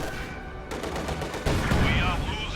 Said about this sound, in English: A stolen Soviet field gun is firing on the IS-2.